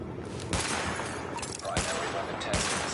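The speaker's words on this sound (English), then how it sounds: "Weapon test initialized. Open fire at the highlighted targets." Gunfire from a weapon test in The Division 2, with dense continuous shooting and several sharper loud reports standing out against a steady roar of firing.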